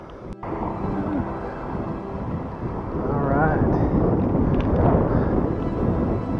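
Steady, loud wind buffeting a microphone outdoors during a bike ride, a continuous low rumble that swells slightly toward the end, with faint background noise.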